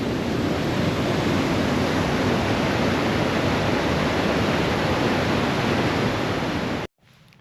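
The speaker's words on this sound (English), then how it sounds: "we've got the waterfalls flowing brilliantly" Bracklin Falls near Callander, Scotland, flowing strongly in autumn: a loud, dense, unbroken roar of rushing water close by that cuts off abruptly near the end, leaving faint background.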